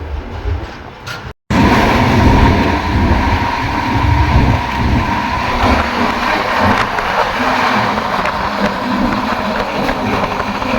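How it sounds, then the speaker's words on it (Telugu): The Sanghamitra Express, running LHB coaches at high speed, gives a loud, steady rumble with rail clatter; a brief dropout comes early, then the roar carries on unbroken. "మనకి LHB కోచెస్ కాబట్టి ట్రైన్ మొత్తం 130 kmph అయితే నడుస్తుంది."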